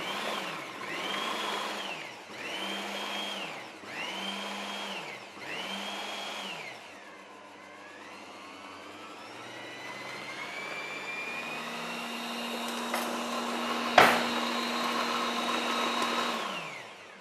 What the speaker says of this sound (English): So all we do is now put everything together and just give it a mix.